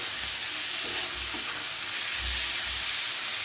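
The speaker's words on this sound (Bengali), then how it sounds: "এবারে পেঁয়াজটাকে আমাদের বাদামি করে ভেজে নিতে হবে, গোল্ডেন কালার।" Chopped onion fries in hot oil, a steady close sizzle with a few soft scraping stirs of a spoon in the pan, no voices.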